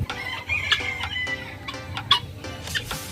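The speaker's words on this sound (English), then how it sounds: "And this hen's name is Graham chicken" Hens at a bird park in Yercaud, including a large chicken breed from the United States, make clucking calls with a few sharper squawks over steady background murmur, close and moderately loud.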